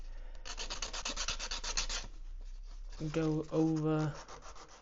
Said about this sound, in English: grab myself a little piece of rougher sandpaper, and we're actually going to